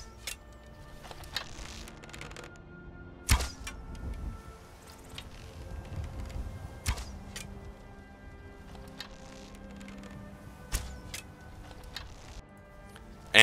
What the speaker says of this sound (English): we'll go ahead and start off with the vanilla Skyrim bow sounds